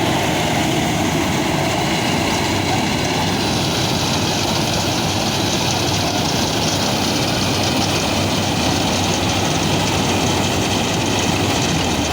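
A rice harvesting machine's engine runs steadily and loudly throughout, a continuous close droning roar with no pauses or talking.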